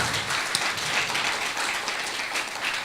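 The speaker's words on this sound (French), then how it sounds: "vous pouvez applaudir nos panélistes." Conference audience applauding the panelists at a LegalTech event in Casablanca, a dense, even wash of many hands clapping at once, fairly loud and continuous throughout without a clear break.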